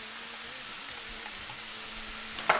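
Onions and pepper frying in a pan for homemade chilli give a steady, close sizzle that hisses evenly throughout, with a brief clatter of stirring near the end.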